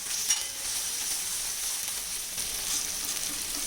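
Mutton liver frying on a tawa gives off a steady, close bright sizzle that runs on evenly with no voices.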